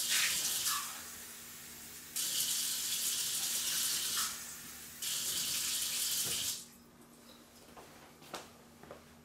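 Cold water from an ordinary household faucet runs in loud, steady hissing bursts that stop and restart a few times before cutting off into quiet near the end.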